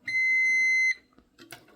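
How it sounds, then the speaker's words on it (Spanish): Multimeter continuity beep from probing a short-circuited small transistor on a circuit board: one steady, loud electronic tone lasting almost a second, followed by faint clicks of the probes. "suena un pitido de cortocircuito"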